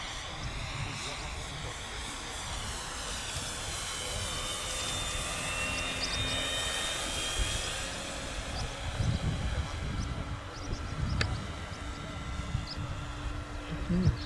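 HSD Jets Cessna 182 model airplane on its maiden flight, a faint steady engine drone passing with a slowly shifting pitch under outdoor ambience and occasional voices.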